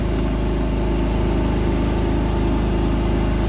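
An engine runs steadily at 1600 RPM, loud and close, with an even low droning throb and fine regular pulsing that continues unchanged throughout, with no voices.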